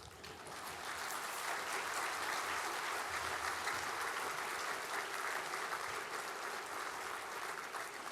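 An audience at a National Philanthropy Day event gives a speaker a warm welcome, sustained even clapping from a large crowd, steady and dense, heard from the room at moderate distance.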